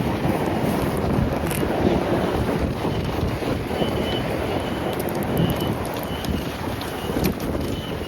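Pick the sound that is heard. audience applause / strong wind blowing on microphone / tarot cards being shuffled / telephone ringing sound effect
strong wind blowing on microphone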